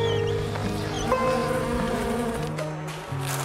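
Bees buzz steadily in a cider apple orchard in Clonmel, Ireland, a close, continuous drone of several insects with shifting pitch and no talking.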